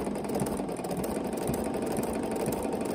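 A Bernina sewing machine runs a straight stitch with a rapid, even mechanical whir and chatter, close and steady throughout with no talking.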